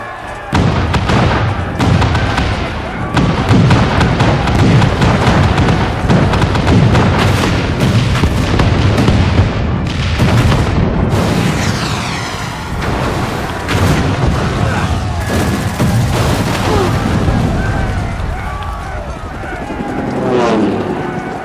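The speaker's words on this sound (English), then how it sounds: "All cannons! Fire at will!" Cannon barrages and heavy explosions in Final Fantasy XIV: Stormblood, a dense, continuous stretch of loud booms and blasts rolling almost without pause, with battle shouting mixed in throughout.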